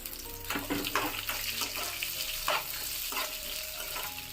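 Onion slices and green chillies fry in a pan for methi moong dal fry, a steady close sizzle with scattered louder crackles and spatters running throughout, no voices.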